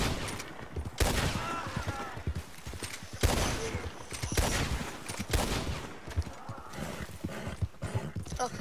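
Rifle shots crack out in Red Dead Redemption 2, several loud separate bangs over the steady clip-clop of a galloping horse and scattered distant gunfire.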